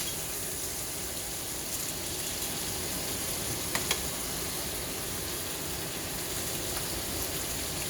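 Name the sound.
sous vide steak searing and sizzling in a pan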